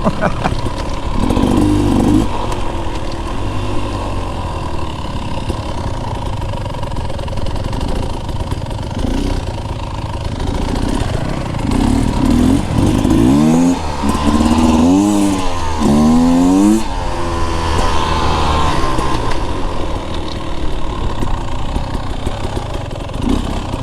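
A 2024 Beta Xtrainer dirt bike ridden on a mountain-pass adventure trail: a steady engine drone with wind rumble throughout, rising and falling revs mid-way as it accelerates, recorded up close from the rider.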